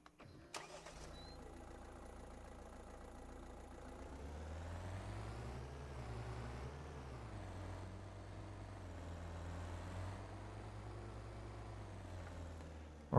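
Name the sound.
car engine driving in Farming Simulator 25 video game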